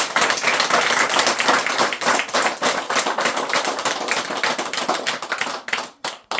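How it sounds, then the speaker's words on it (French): A wedding congregation in a church claps to welcome the couples, dense steady clapping close and loud that thins into a few scattered claps near the end. "alors commencez d'applaudir maintenant"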